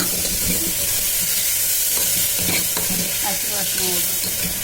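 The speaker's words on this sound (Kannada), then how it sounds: "ಸಾಂಬಾರ್ ಸೊಪ್ಪು ಚೆನ್ನಾಗಿ ಇವಾಗ ಮಿಕ್ಸ್ ಮಾಡ್ತಿದ್ದಾರೆ" Sambar greens are stirred in a hot pan, a dense continuous sizzle and hiss with scraping stirring strokes close by.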